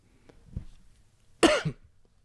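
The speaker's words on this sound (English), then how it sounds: "Excuse me for coughing in your ear." A single sharp cough close to the microphone, preceded by a softer throat sound, then quiet.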